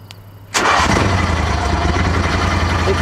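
A Max II 6x6 amphibious ATV engine cranks and catches after a short quiet moment, then settles into a loud, steady running drone that continues to the end.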